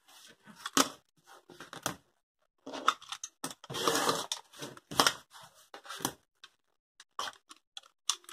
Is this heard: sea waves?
no